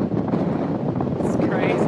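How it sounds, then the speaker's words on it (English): Strong wind buffeting outdoors on the Tasmanian coast, a rough continuous roar of gusts over the microphone with a person talking under it. "It's so windy."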